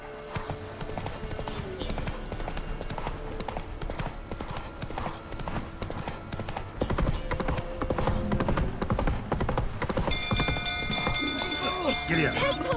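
A horse gallops with rapid, steady clip-clop hoofbeats in The Witcher 3: Wild Hunt on PS5, the pace picking up midway, under game music and ambience with a rider's brief spoken urging.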